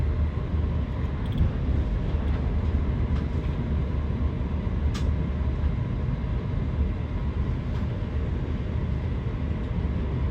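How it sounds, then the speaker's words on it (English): A train at London Euston station produces a steady, loud, low rumble of rail noise, with a few faint clicks and clanks and no speech. "this is me coming out from the train, and I think they call this London Euston or something"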